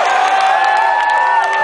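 A live concert crowd at a first LA show on a Monday night cheers loudly and steadily, a dense roar of shouts and whoops with one sustained high yell riding on top throughout.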